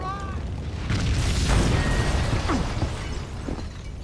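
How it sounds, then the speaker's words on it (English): A building blows up in Max Payne 2, a deep rumbling boom that swells after a second and rolls on with crackling, shattering debris, loud and close. "The building's blowing up."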